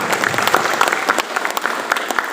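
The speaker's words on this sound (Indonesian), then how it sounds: "Luar biasa, tepuk tangan bolehlah sekali lagi." A crowd applauding steadily with dense, continuous clapping, loud and close, with no pauses.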